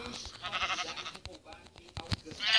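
A sheep in a survival video game bleats in short wavering calls mixed with game sounds, while a person talks over them.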